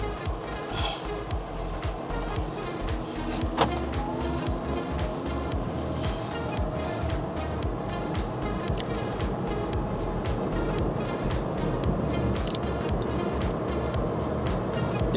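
Wuling Mini EV electric car driving, a steady low road and cabin rumble with tire and wind noise, continuous and fairly loud inside the car.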